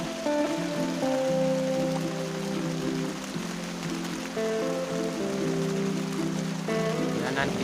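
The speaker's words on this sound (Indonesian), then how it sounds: "Hujannya sangat besar" Heavy rain pounds down around a hut in the forest during a bird-trapping outing, a steady broadband wash beneath a tonal musical bed throughout.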